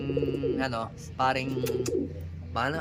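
A pigeon coos in soft, repeated low calls, close by, with a person talking quietly over parts of it.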